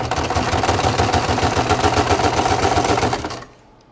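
A sewing machine stitching a patch onto leather runs in a fast, steady mechanical chatter of needle strokes, loud and close, then stops abruptly near the end.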